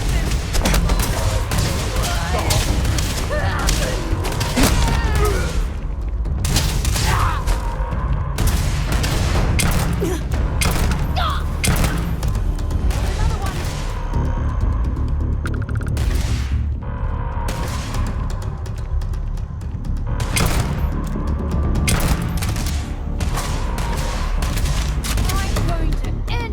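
EM weapon gunfire during a Terrormorph attack on New Atlantis in Starfield: dense, continuous volleys of rapid shots and booms, loud and close, with voices shouting now and then over the firefight.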